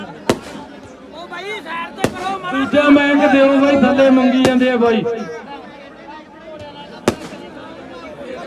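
Four sharp firecracker bangs go off at uneven intervals while someone talks loudly over a noisy crowd at a Punjabi festival gathering with horses present.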